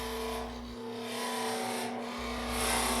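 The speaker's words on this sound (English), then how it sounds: "I'm going to part this lid off with the very narrowest parting tool I possess." A very narrow 1/16-inch parting tool cuts into a spinning wooden lid on a lathe, giving a steady close rasping scrape over the lathe's constant hum, with a short break in the low rumble partway through.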